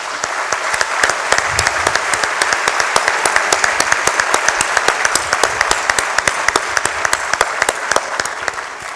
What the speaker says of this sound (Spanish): también se merece un aplauso las otras 10 federaciones que hoy nos acompañan